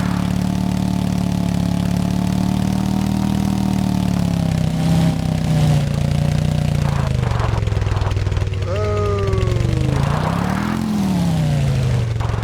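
A motorbike engine in Empyrion Galactic Survival drones steadily and loudly close by, its pitch rising and falling as it revs, with a brief spoken exclamation over it.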